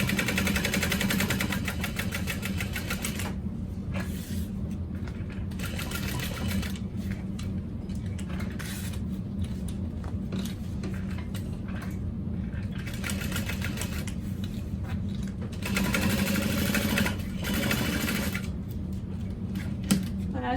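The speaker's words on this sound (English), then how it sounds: "I'm going to start with a back stitch at that top corner, work my way down." A sewing machine runs steadily in a continuous mechanical whir, with brief pauses and changes in pace as it back-stitches on a bag.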